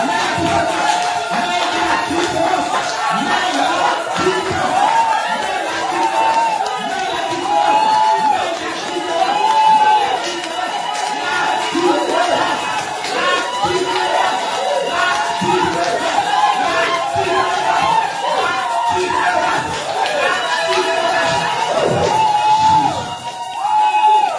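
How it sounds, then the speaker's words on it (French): A church congregation cheering and acclaiming God during a worship service, loud sustained crowd shouts, whoops and chatter filling the room throughout. "Maintenant, tu vas acclamer ton Dieu."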